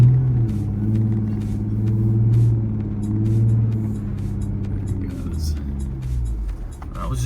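A vehicle driving in two-wheel drive through soft sugar sand on cheap all-terrain tires, its engine a steady low rumble that swells and eases throughout, with people talking over it.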